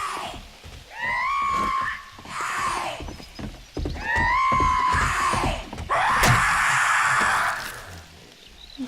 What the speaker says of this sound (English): she seemed to scream for a lot longer